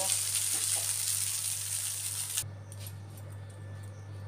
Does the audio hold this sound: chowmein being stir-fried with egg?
yes